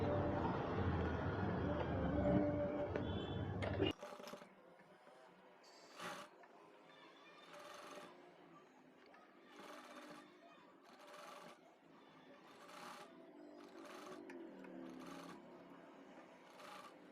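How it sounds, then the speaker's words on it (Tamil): A domestic sewing machine stitches a frill frock in short repeated bursts after a louder opening passage, each run brief and separated by pauses, heard up close in a quiet room. "அகைன் ஒரு தரம் அடிச்சுட்டு ஒரு தையல் போடணும்"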